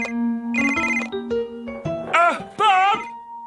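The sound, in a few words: telephone ringing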